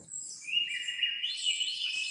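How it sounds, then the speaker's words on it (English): Birds chirp in a steady, bright stream of high tweets, fairly close and clear against a quiet background with no talk. "Here comes the birds again."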